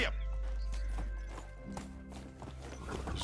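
Hooves clip-clop steadily under a ridden horse in a video game, a rhythmic trotting patter over game music and ambient hum, with no talk.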